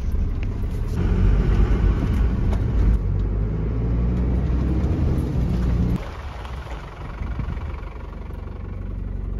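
A camping ute grinds up a bumpy dirt trail with a low, rumbling engine drone. The sound shifts and drops a little partway through, with no talking.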